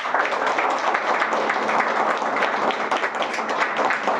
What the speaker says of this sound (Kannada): ಒಂದ್ಸತಿ ಜೋರಾಗಿ ಚಪ್ಪಾಳೆ.